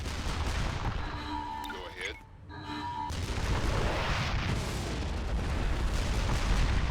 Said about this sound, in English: 4 missiles hit the ground, you know what I'm saying?